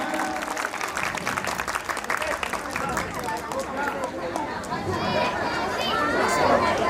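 An audience applauds the performers at a stage play, with clapping mixed into crowd chatter and a voice carrying over it, growing busier toward the end.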